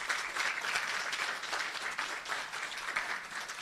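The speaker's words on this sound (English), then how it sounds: "I want you to clap for this girl." An audience claps for a female student at a nuclear essay competition awards ceremony, a dense, continuous round of applause lasting a few seconds that fills the room without any talk.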